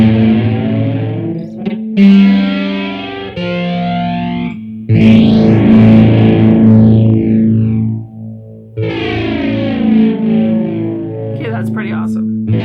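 Electric guitar played through a JHS 3 Series flanger and a Super Fuzz pedal, producing thick, distorted chords with a sweeping, swirling flange, ringing loudly in sustained strums with brief gaps.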